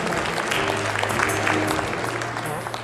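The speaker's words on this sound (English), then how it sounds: "Please welcome him with a big round of applause" An audience gives a round of applause to welcome farmer Yakuba Sawadogo. There is dense, continuous clapping with a low hum beneath it, steady and fairly loud for a few seconds.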